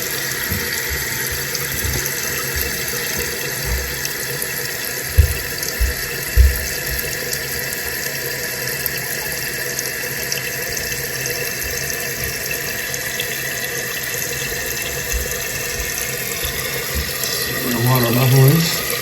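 Steady rushing of water refilling a toilet tank through a new fill valve, continuous and fairly loud, with a few knocks and a rising gurgle near the end.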